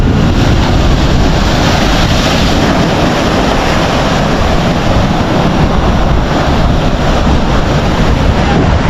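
Sea waves wash in continuously behind Somnath temple on the Gujarat coast, a steady loud roar of surf mixed with wind buffeting the microphone, with no talk.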